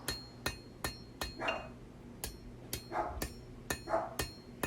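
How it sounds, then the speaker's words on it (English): A hammer rings against a hand-forged steel knife blade, planishing it in a steady run of about ten sharp, close metallic strikes with short pauses between blows. "Planish out some hammer marks."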